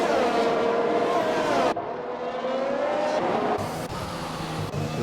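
Formula 1 race car engine in the F1 2021 game, leaving the pit lane at Canada's circuit, a steady loud whine with shifting pitch and an abrupt change partway through as the car pulls out.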